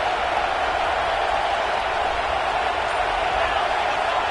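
A football stadium crowd keeps up a dense, loud, continuous roar of cheering and noise, broad and unbroken with no single voice standing out.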